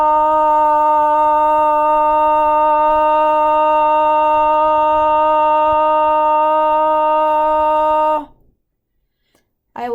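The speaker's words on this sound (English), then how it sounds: "Up next, we're going to do our sustained ah." A single voice holds a strong, steady "ah" vowel as a Parkinson's voice exercise, one even unbroken tone lasting about eight seconds before it cuts off into silence, followed by a brief intake of breath.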